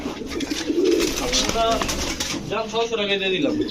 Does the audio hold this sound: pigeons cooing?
yes